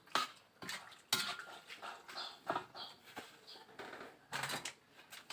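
A spoon stirs apple snail curry in a pot, giving repeated scraping clatters and shell-like clinks in an uneven rhythm. The sound is close and fairly quiet, and no one speaks.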